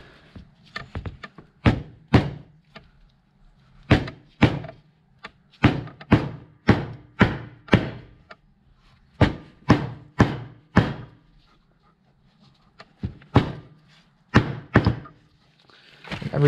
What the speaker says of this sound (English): we'll get our seal installer here, and we'll just start lightly tapping this guy in.